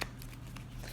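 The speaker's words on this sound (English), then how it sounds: "I feel that I have to shuffle a little bit" Reading cards are shuffled by hand in a short, close, soft riffling burst that fades quickly into quiet room tone, with no voice.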